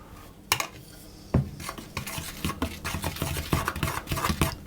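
Flour, salt and yeast are stirred together in a large bowl for English muffin toasting bread, giving close, irregular scrapes and soft knocks against the bowl with no talking.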